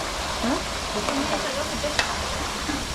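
Jackfruit pieces frying in hot oil, a constant close sizzle with occasional scraping strokes as they are stirred, without a break.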